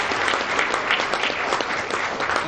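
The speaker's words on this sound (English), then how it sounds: "Big round of applause." Sustained applause from a breakfast audience honoring event sponsors, a dense steady patter of many hands clapping at close range without a break, no voices on top.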